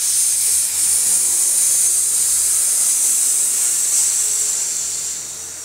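A human voice imitating air hissing out of a punctured, fully inflated tyre: one long, loud, steady hiss that fades slightly at the end.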